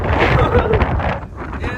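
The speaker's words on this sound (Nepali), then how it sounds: "कति हावा आयो अब यहाँ" Gusty wind buffets the microphone in loud, rough bursts outdoors on a mountain trek at Rajkada, Chisapani, briefly easing before picking up again.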